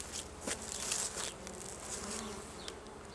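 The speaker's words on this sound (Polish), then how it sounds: "Ale pszczoły latają" Many honey bees buzz close by at a Japanese-style hive in a steady, droning hum, with individual bees whizzing past now and then.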